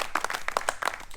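A small group claps for Neil at the end of a rugby match gathering, with scattered uneven hand claps, close and moderate, lasting about a second and without talk.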